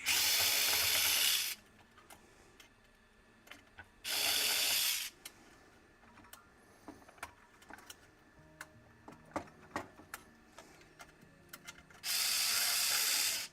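A power drill backing screws out during a repair, three loud whirring bursts separated by pauses full of small ticks, clicks and handling noises up close.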